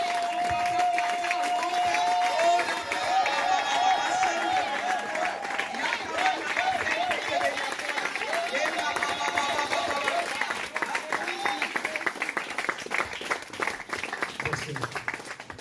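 A church congregation at a praise-and-worship service applauds and cheers throughout, with a voice singing or calling out over the clapping, which grows denser and more percussive toward the end.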